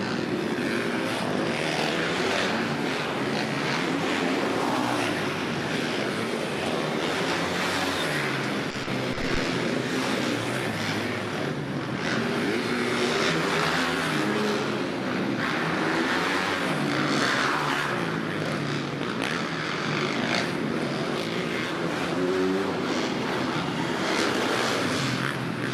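An off-road racing motorcycle, a Kawasaki numbered 115, crosses the finish line at an indoor arena, its engine a continuous loud roar blended with other machines and crowd noise throughout.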